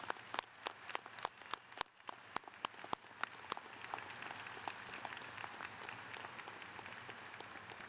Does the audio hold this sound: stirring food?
no